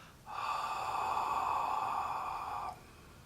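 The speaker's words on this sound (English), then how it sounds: "You're slightly constricting your esophagus, your throat muscles, and then you're exhaling." A single long, steady exhale forced through a constricted throat in the water-breath exercise, a hissing, slightly hoarse rush of air lasting about two and a half seconds, close and quiet.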